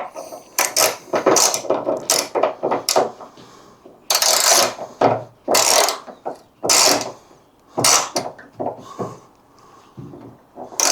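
Ratcheting a bolt tight on a hood strut during a Lexland Gear hood strut install, bursts of quick metallic ratchet clicks in short rhythmic runs separated by brief pauses, close and fairly loud.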